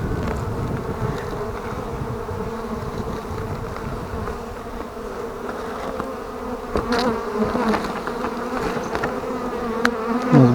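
Honey bees in an overwintering hive buzz in a close, dense, continuous drone, with slight swells and a few louder individual buzzes near the end.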